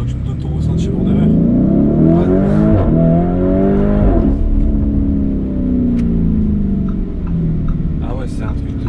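A Lamborghini Urus SUV accelerates hard from inside the cabin, its engine roar loud and continuous with pitch climbing and dropping through gear changes.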